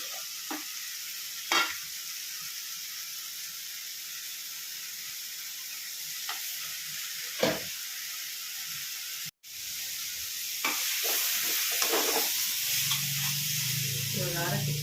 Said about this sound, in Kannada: ಎಣ್ಣೆಲ್ಲೇ ಫ್ರೈ ಮಾಡಬೇಕು